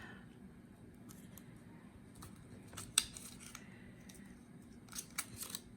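Scissors trim paper for a pop-up card, giving a few faint, close, crisp snips spread across a quiet room.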